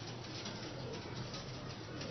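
Several pigeons cooing inside a loft, soft low murmuring rolls layered together, steady and close against a quiet background.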